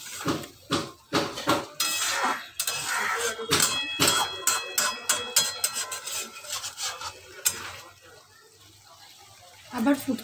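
Spice paste stirred in a cooking pan for a Bengali prawn malai curry, a spoon scraping and knocking the pan in a quick irregular rhythm, close and moderately loud, with a pause near the end.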